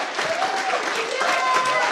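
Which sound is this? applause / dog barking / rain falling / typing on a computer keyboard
applause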